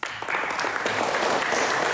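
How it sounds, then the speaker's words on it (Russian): Applause from students of a Greco-Roman wrestling school, a dense, steady burst of clapping from a group filling the room, loud and continuous without a break. "Воспитанники Сормовской школы греко-римской борьбы аплодисментами встретили информацию о том, что Евгений Арефьев успешно выступил в Самаре"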